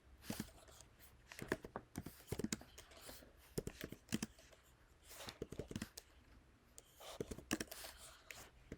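Close, quiet clicking of keys in irregular bursts and pauses, like someone typing on a computer keyboard, with no talking.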